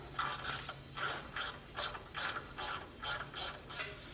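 Ratchet wrench clicking in rapid bursts as it loosens the drag link bolt on a Jeep Gladiator steering setup, about eight short repeated ratcheting strokes, close and fairly quiet with no talk.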